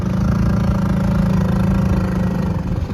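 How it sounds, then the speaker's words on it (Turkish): A large tour boat's engine approaches near a sea cave, giving a loud, steady low mechanical drone with a harmonic hum that continues throughout, with no talking. "İşte bir de dev bir tekne geliyor, tur teknesi."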